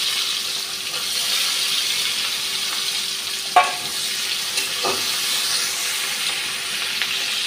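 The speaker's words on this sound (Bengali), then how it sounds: "পেঁয়াজটা ভাজা হয়ে গেছে" Onion with bay leaf and green chilli sizzles steadily in an oil-filled pan, a constant bright hiss with a couple of brief scraping stirs partway through; no voices.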